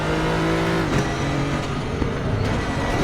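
Nissan GT-R GT3 race car engine in RaceRoom on the Nordschleife, a steady loud mechanical drone with shifting revs and a downshift blip near the start, continuous throughout.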